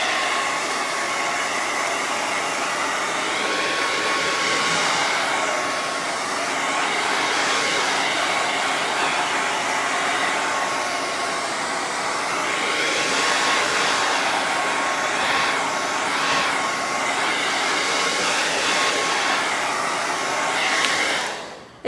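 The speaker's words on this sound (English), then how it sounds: "Okay, I'm gonna dry this middle." Hair dryer drying paint on a wooden noodle board stove top cover, a loud continuous close roar with slight wavering in pitch as it moves, running steadily throughout with no talk.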